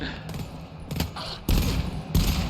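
A double burst sentry gun in a Rundown 4 video game fires several sharp bursts, the last two louder and heavier, over a background of game noise.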